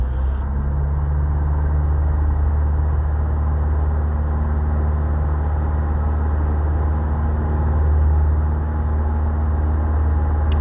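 Inside the cockpit of a Robin DR400 light aircraft flying circuits at Muret, the engine drones loud and constant, a steady low hum with a slight swell near the end.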